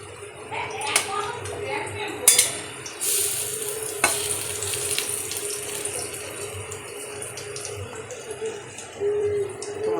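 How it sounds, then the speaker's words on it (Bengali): Lentil fritters (bora) frying in oil give a continuous sizzle, broken by scraping and stirring clatters and a few louder clanks, with no voice heard. "একবার বড়াগুলো ভাজা হয়ে গেছে এখনও দু থেকে তিনবার ভাজতে হবে"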